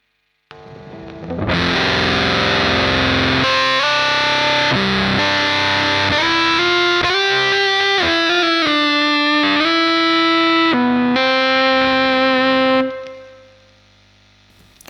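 An electric guitar plays through a JOYO JF-12 Voodoo Octave fuzz pedal, harsh and buzzy, sustained notes stepping up and down with a thick distorted edge before cutting off.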